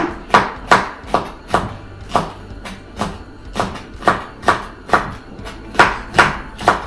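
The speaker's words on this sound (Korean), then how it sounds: "청양고추를 그냥 쫑쫑 썰어서" A knife chopping Cheongyang chili peppers on a cutting board, about a dozen and a half sharp, evenly spaced knocks in a steady rhythm, close and clear with no talk.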